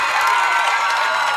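A packed home-side crowd at a high school football game between Spring Hill Broncos and Ottawa Cyclones roars and cheers in a brief, dense wash of voices.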